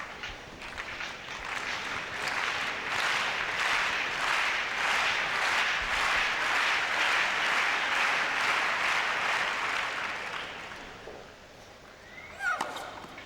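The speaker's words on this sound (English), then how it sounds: "It brings the biggest cheer." A tennis crowd in Madrid bursts into sustained applause and cheering after the first ace of a Sharapova–Dementieva match, a dense, rhythmic clapping roar that holds for about ten seconds before thinning out.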